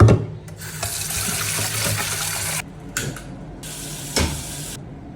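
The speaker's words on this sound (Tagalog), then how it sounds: "At saka eto. Hugasan muna natin to." Vegetables are washed under a running sink tap: water splashes and gushes in uneven bursts, close and fairly loud, with brief pauses as the flow is interrupted.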